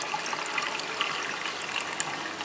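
Water from a planted aquarium tank's pump runs in a steady, close trickle, a continuous bright splashing flow with small drips and bubbles throughout and no voices.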